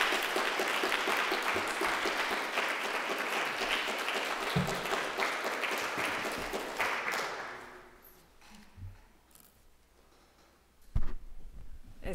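An audience at a church lecture claps steadily to welcome lecturer Anna Carter Florence. The dense applause holds for about seven seconds, then fades into quiet room noise with a soft thump near the end.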